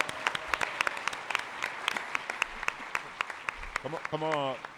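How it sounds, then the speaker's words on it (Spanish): A television quiz show audience applauds the winner with scattered, brisk claps from a modest crowd, ending as a voice begins talking over it. "Un aplauso para la ganadora, hombre."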